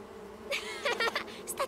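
Cartoon bees buzz in short, bright bursts that start after a moment of quiet, several overlapping whirring pulses close by, with some voice-like squeaks among them.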